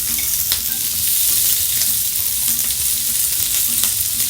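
Sausages on an English breakfast okonomiyaki sizzling on a griddle: a loud, continuous close-up frying hiss with faint occasional spits and clicks.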